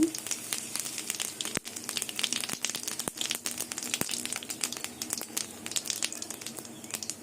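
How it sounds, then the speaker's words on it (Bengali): Dried chili, bay leaf, whole cumin and asafoetida sizzling in hot oil for a tempering, a dense continuous crackling fry with sharp pops throughout, close and steady, no talk. "তেলটা গরম হয়ে গেছে এবার শুকনো লঙ্কা তেজপাতা আর গোটা জিরে ফোড়নে দিয়ে দেবো দিয়ে দেবো হিং"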